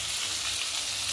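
Chicken frying in coconut oil, a dense, steady, close sizzle with no breaks or voices over a short stretch.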